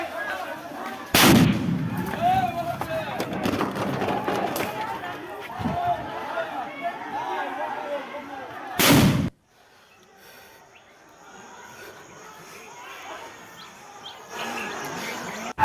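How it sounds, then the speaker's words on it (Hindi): Gunfire erupts outside a polling booth in Murshidabad during the Bengal election: two loud, sharp bangs about eight seconds apart cut through crowd noise and voices. "फायरिंग हुई, गोली चलने की आवाज काफी दूर तक सुनाई पड़ रही थी"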